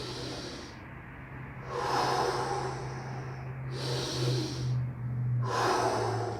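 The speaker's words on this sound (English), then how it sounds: "you really extend your stomach and breathe through your stomach really deep." Deep belly breathing in a crocodile breathing exercise for spinal and postural training: slow, loud inhales and exhales through the stomach, three full breath cycles close up, with a steady low hum beneath.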